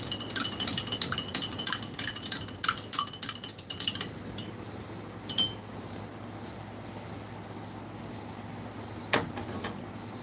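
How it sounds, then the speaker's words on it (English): A spoon stirs artificial drink mix powder in a jar, making a quick run of close metallic clinks and scrapes against the glass that stop after a few seconds, followed by near silence with a couple of isolated taps. "There's still a lot of undissolved powder in the bottom, so I'm giving it another stir."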